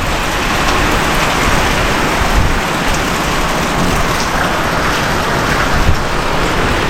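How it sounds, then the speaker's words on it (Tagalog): Heavy rain pours steadily during a typhoon, a dense, continuous hiss with occasional deeper gusts and rumbles underneath, no voices. "May pabugso-bugsong hangin, malakas na pag-ulan."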